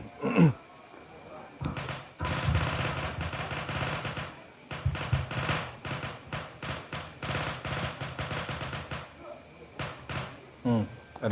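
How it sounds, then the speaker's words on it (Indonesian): Firecrackers going off in rapid, irregular bursts of sharp cracks that crackle on for several seconds, with a couple of louder pops at the start and end. "Ada petasan."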